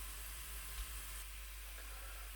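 Chopped onions fry in a pan as Pakistani-style keema rice is prepared, giving a soft, steady sizzle that stays faint and even throughout, with no talking over it.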